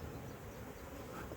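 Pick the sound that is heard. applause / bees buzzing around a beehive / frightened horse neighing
bees buzzing around a beehive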